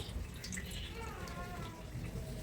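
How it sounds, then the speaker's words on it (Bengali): Soaked rice is washed by hand in water in a pot or bowl, giving soft continuous sloshing and trickling close by, with no talk over it. "এরপর চালটা ভালোভাবে ধুয়ে নিচ্ছি"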